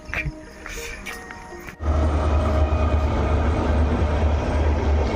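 A train rumbles past close by in Guwahati, a loud steady roar with rattling wheels that suddenly swells and holds after a quieter opening.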